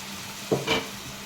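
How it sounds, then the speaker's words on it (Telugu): Eggs being stirred into sizzling tomatoes and ridge gourd in a frying pan for a spicy egg curry, with a steady background hiss and two brief scraping stirs close by. "ఇప్పుడు గుడ్లు కూడా వేసేసుకొని ఒకసారి కలుపుకుందాం."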